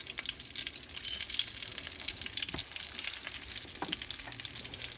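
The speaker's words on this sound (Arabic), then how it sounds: "Now I'm gonna put the fish in." Fish dredged in flour fries in hot oil, giving a steady, close crackling sizzle with scattered pops throughout, no voices.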